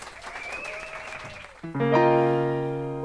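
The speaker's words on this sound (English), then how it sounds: "huge round of applause for Grace O'Keefe" A theatre audience applauds at a new musical theatre showcase for about a second and a half before sustained instrumental chords begin to play for the next song.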